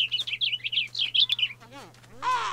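A bird chirps in a modded Minecraft game, giving a quick run of bright, high tweets close up and loud, then a short stretch of voice-like sliding sounds.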